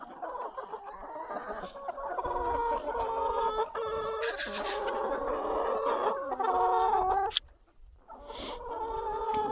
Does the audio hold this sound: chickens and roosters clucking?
yes